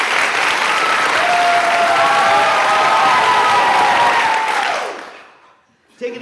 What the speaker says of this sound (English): So take your hands and clap like applause.